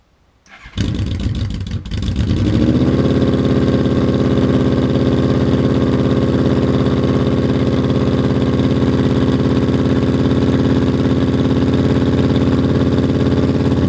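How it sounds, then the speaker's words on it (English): A Yamaha Royal Star Venture motorcycle fitted with Harley mufflers cranks and fires up with the choke on. It then settles into a steady, loud, close idle that runs without a break, and no one speaks. "I'm going to start the machine and we'll keep an eye on the meter."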